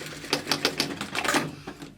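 A sewing machine stitches close along the seam of a homemade laundry scrub bag, a quick run of rhythmic mechanical needle bursts, near and steady, with no talking.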